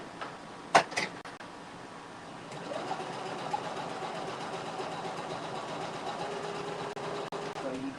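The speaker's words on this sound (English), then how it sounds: "Try not to overlap your stitches. So try to stay close to the stitch that you sewed previously," A sewing machine stitches a plastic bag holder, a steady whirring run that starts after a couple of sharp knocks and continues evenly at moderate loudness. No one speaks.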